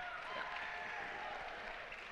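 An audience claps together in a steady, dense wash of applause that stays moderately loud and even for the whole stretch, with no single claps standing out.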